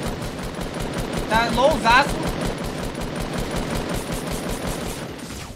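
Rapid automatic gunfire rattles in the video game Fortnite during a duo-versus-squad match, a dense burst of shots under a player's voice and ongoing game sounds.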